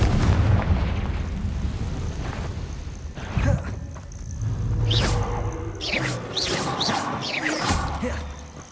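Confringo blast-curse explosions in the video game Hogwarts Legacy, a series of booming impacts and crackling bursts over a constant low rumble, with sharp whooshing spell effects toward the end.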